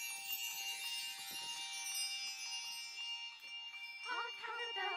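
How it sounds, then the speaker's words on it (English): Christmas bells ring with sustained metallic tones and shimmering overtones, a faint peal with a brighter cluster of strikes near the end, over light background noise. "The bells of Christmas."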